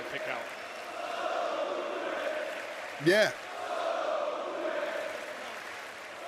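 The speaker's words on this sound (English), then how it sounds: "Whatever the Italian crowd is saying, I'm with it." An Italian wrestling crowd at a WWE SmackDown broadcast gives a steady rumble of chanting across the arena, with a single voice briefly shouting over it partway through.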